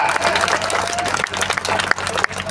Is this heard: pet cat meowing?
no